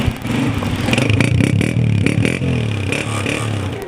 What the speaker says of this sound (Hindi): होंडा 125 मॉडल 2019, साउंड सुना आपने, बाइक स्टार्ट खड़ी है, अच्छे साउंड में बाइक बोल रही है